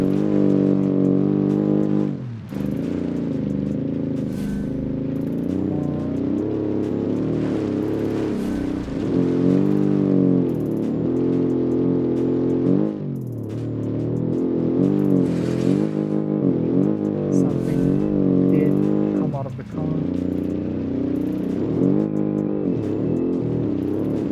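A 1977 car with a boxer four engine strains as it accelerates, its steady buzzing drone rising and dipping through gear changes, loud and close throughout.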